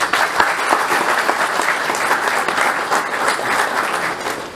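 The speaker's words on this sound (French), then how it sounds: "Cela mérite d'être applaudi." A room applauds the certification of small and medium-sized businesses at a stock exchange programme ceremony, with dense, sustained clapping that stays fairly loud and even throughout.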